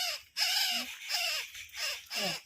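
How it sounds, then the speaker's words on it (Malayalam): Harsh, repeated calls from a single wagtail close by at water, several calls in quick succession with short pauses between them. "ഇന്നാളത്തെ പോലെ തന്നെ ഒരു വാലാട്ടി കിളി"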